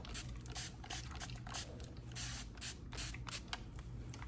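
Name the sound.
spraying water on hair from a spray bottle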